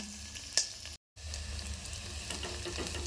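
Curry leaves and other ingredients for a village-style keerai kadaiyal sautéing in a pan, a steady close sizzle with a brief dropout partway, no talking.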